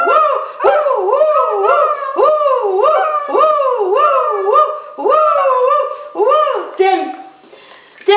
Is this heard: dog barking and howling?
yes